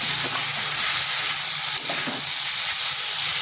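Steady loud sizzle of masala frying in a pan with taro and small mourola fish, a continuous dense hiss with faint stirring scrapes beneath and no voices.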